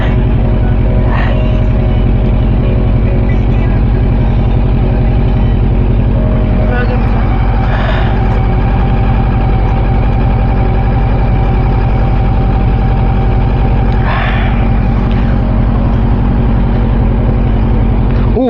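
A Honda CB400 Super Four motorcycle engine idles close by with a steady low throb and even rumble, faint voices or clicks surfacing now and then over the continuous drone.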